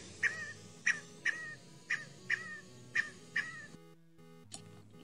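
A scaled quail calls repeatedly, about seven sharp, evenly spaced notes over a busy outdoor background, then a brief pause and one more call.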